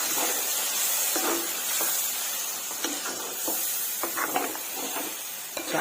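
Green chicken curry being stirred as it cooks in a pan, with a steady hiss and sizzle and scattered scraping spoon strokes that come in short bursts, close up and with no talking.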